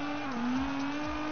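A car drifting in the video game CarX Drift Racing Online, a steady sustained engine drone at held revs with faint tyre noise, no talking.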